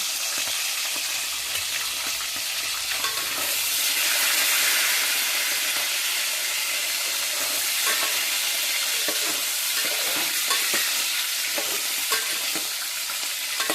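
Dried fish frying in hot oil, a steady dense sizzle and hiss close up, swelling louder midway, with occasional stirring clinks and no talking.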